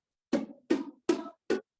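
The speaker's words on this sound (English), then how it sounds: "So what I'm doing is weaving the paper in the strings" Four short, buzzy plucked harp notes with a paper strip woven through the strings, each muted and rattling, spaced about a beat apart, close and quiet.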